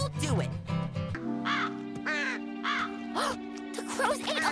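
Cartoon crows cawing in an animated children's show, several harsh rising caws in quick succession, close and clear over a sustained music-like tone in the background.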